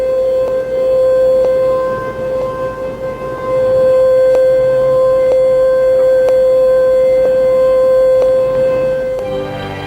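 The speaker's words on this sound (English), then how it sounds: "the sirens atop key buildings in our major cities may sound in earnest" A civil defense warning siren sounds atop a city building, a loud steady wailing tone held for nearly ten seconds with slight swells, alone without talk.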